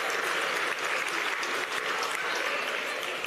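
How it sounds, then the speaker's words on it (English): A crowd at a sports awards night in a convention centre claps for the venue staff, a dense, steady burst of applause that holds at even strength for a few seconds before cutting off. "How about a round of applause for the amazing staff here at the Darwin Convention Centre?"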